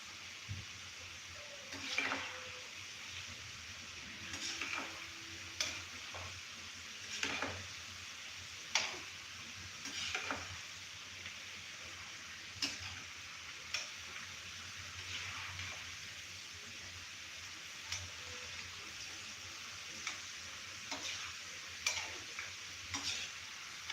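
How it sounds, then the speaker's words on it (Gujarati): Food for a Shivratri fasting recipe fries in hot oil over a low flame, giving a soft, steady sizzle broken by regular light ticks and clicks of stirring. "ક્રિસ્પી થાય ત્યાં સુધી આપણે તળી લેશું."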